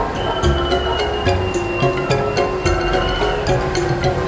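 Siliwangi passenger train running along a reactivated railway line near Cipeyeum station, a steady rumbling roll with repeated sharp wheel clacks and metallic squeal tones, continuous and fairly loud.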